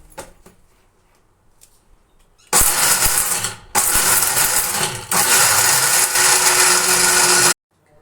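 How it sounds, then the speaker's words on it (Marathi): A mixer grinder whirs loudly as it grinds roasted ingredients into a fine protein powder, running in three bursts separated by brief stops, with quiet handling noises before the motor starts and a sudden cutoff at the end. "ह्याला बारीक वाटून घ्यायचं आहे"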